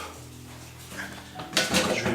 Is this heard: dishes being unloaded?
yes